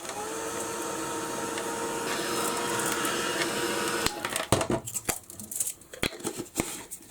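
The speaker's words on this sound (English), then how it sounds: "I'm going to dry this now." Drying a craft project: a steady whirring blower runs loud for about four seconds, then cuts off, leaving scattered handling clicks and taps.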